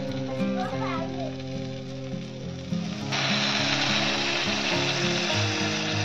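Water is poured into a hot pan of egg Maggi noodles in a village kitchen. A quiet simmer bursts into loud, steady sizzling about halfway through, while voices, including children's, talk over it.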